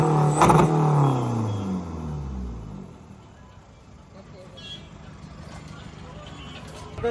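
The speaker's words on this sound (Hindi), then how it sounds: "ये गाड़ी देख के ये लोग कह रहे भाई एक बार रेफ करके दिखा दो।" A car engine revs hard near the start, rising and falling in a loud roar before settling back to a low idle rumble, with faint voices and background noise afterward.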